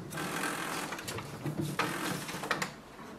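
An HP ENVY Inspire 7924e printer feeds pages through its automatic document feeder while scanning, giving a steady close mechanical whir with repeated clicks and clunks of paper moving, without talk.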